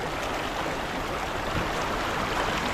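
A strong river current rushes past in a continuous, loud, dense roar of water that stays steady throughout, with no voices over it.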